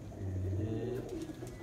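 Racing pigeons in a Punjab flying competition coo in a low, steady, rolling murmur, fairly close and alone with no talk over it.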